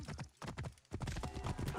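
Donkey hooves clip-clop in Assassin's Creed Origins, a quick run of close, brisk steps over about two seconds, with a short pause partway through.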